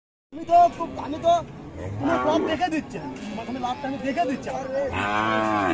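A Friesian cow moos at a busy cattle market, several drawn-out lowing calls in turn, close and loud, over a background of crowd chatter and people talking.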